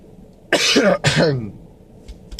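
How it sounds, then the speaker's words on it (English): Two harsh, close coughs in quick succession, then a short quiet pause with faint rustling. "I told you I'm going to have a bit of a cough in this video"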